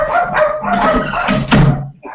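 A dog barks and whimpers close by, a few loud yelping barks in quick succession that come through clearly over a quiet indoor room.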